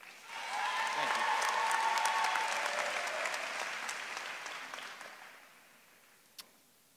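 A graduation ceremony audience applauds a student speaker walking to the podium, dense clapping swelling quickly, holding steady, then tapering off over several seconds, with scattered voices beneath and a single sharp knock near the end.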